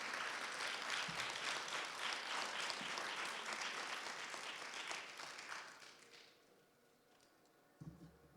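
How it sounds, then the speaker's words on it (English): An audience applauds a performer at an arts showcase: dense, steady clapping for about six seconds that fades away, leaving near quiet before a brief sound at the end. "Let's give Skylar a big round of applause"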